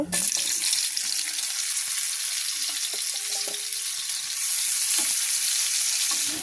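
Cumin seeds and chopped onion fry in hot oil in a village kitchen, a loud continuous sizzle with a few faint clinks, no talking.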